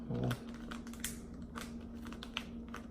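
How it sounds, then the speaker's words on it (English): A plastic Ziploc bag's zipper seal being pressed shut by hand, a run of small close clicks and crackles at low level, with no talk. "Just gonna close the little zipper or whatever this thing's called, nice and tight."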